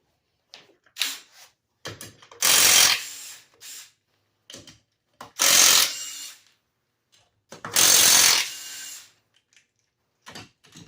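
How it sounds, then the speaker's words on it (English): Four 17mm lug nuts come off a 1989-1994 Geo Metro wheel with a power tool, three loud sustained whirring bursts separated by short clicks and clanks of handling, no talking. "You're going to remove your 4 17mm lug nuts here."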